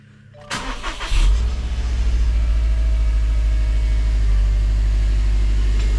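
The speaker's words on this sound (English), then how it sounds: "So I'm gonna start the car." A 2016 HyperBlue Subaru WRX STI starts up: a brief starter crank, then the engine catches with a loud rev flare and settles into a steady, deep idle rumble, close-up in a garage setting with no talk.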